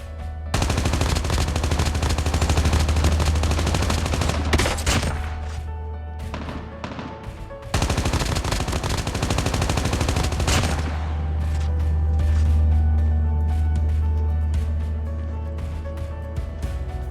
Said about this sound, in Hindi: यहाँ पे गन फायर का आवाज़ सुन के मैं कंफर्म हो जाता हूँ कि बंदे हैं।